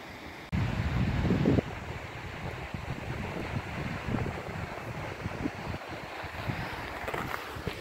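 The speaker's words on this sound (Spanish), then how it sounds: "hemos llegado a la cascada de Mazorrubi" The Mazorrubi waterfall on a snowy mountain trail, a constant rushing roar of falling water mixed with gusty wind buffeting the microphone, a sudden loud burst near the start and no talk.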